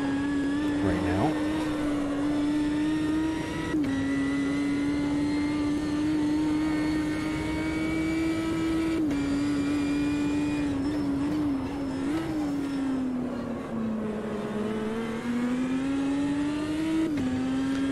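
Race car engine in the sim racing game Automobilista 2, a steady loud high-pitched drone held near-constant with brief dips and shifts as the car runs toward a final corner, continuous throughout with no talk.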